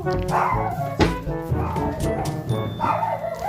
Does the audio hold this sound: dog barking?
yes